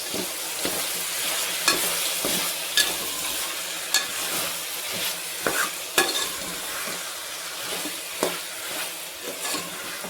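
Vegetables with tomatoes frying for veg pulao, a steady close sizzle with scraping stir strokes and clatters every second or so, no talking.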